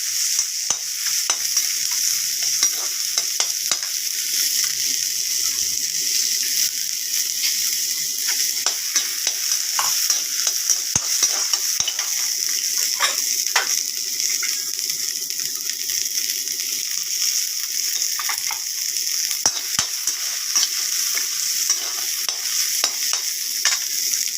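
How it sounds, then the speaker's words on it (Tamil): Onions sautéing in a pan for coriander seed chutney, a steady loud sizzle with frequent scraping stirs and clicks of the spatula throughout, no voices. "வெங்காயம் வதங்கிருக்கு"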